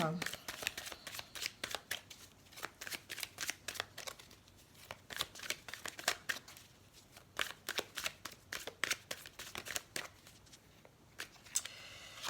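Tarot-style cards shuffled by hand for a card reading, a close, continuous series of quick riffling flicks in irregular bursts, with a voice speaking underneath.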